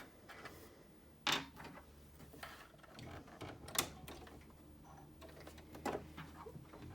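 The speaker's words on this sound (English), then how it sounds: "So I'm going to change my presser foot." Presser foot being swapped on a home sewing machine while making a tote bag: a few sharp plastic and metal clicks and snaps spaced over several seconds, close and quiet with no voice.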